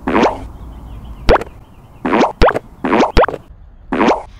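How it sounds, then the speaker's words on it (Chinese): Colapz collapsible 8L camping water bucket being opened, with several short hollow plastic pops and soft snaps spaced about a second apart, close and dry. "松开这条扣带，打开盖子，旋转拉起"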